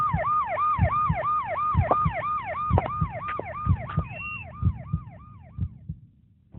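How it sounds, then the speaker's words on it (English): A wailing ambulance siren on an emergency call, loud and close, its rising and falling tone repeating steadily in the foreground with rhythmic low thumps beneath, then cutting off near the end. "I need an ambulance, now."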